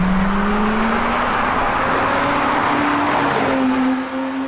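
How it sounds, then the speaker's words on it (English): Porsche 718 Spyder with a newly fitted aftermarket exhaust, its engine note loud and close, a steady drone that climbs gradually in pitch as revs rise, with no talking. "I fitted a new exhaust to this 718 Spyder"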